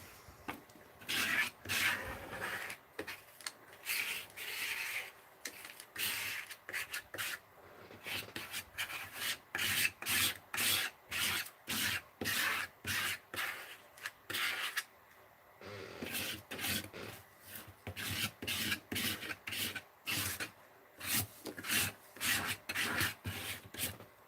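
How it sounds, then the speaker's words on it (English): Rhythmic scraping strokes rasp across a surface at close range, coming in steady repeated bursts with short pauses between runs and no talking. "now let's scrape some of this off"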